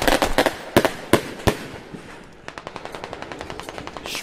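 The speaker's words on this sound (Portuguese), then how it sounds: "Explodiu o blindado, hein." Armored vehicle blowing up in a favela shootout video game, with sharp blasts and bursts of gunfire early on, then a steady rapid string of shots continuing close and loud.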